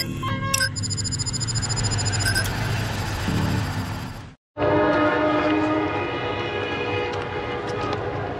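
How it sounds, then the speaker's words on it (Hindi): An express train sounds its horn and roars past at about 107 km/h, a long sustained rush of wheels and clatter with a brief cut midway, near Habibabad railway station. "34 down park business express ZQ30 के साथ 107 किलोमीटर फी घंटा।"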